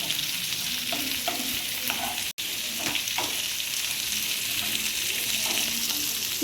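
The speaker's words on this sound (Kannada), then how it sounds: "ಈರುಳ್ಳಿ ಜಾಸ್ತಿ ಕೆಂಪಾಗೋದೇನು ಬೇಡ, ಸ್ವಲ್ಪ ಲೈಟಾಗಿ ಕೆಂಪಾದರೆ ಸಾಕು." Onions sizzle steadily in hot oil in a pan, a dense continuous frying hiss with occasional stirring scrapes, close and loud throughout.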